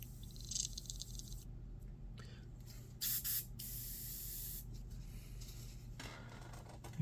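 An airbrush fired in short bursts to clear dried paint from its tip, giving close hissing sprays with brief gaps over a low background hum.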